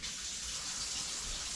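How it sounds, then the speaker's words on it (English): Hot water runs from a kitchen tap while dough is being prepared, a steady close hiss of flow lasting the whole moment with no talking. "Let's get some hot water going."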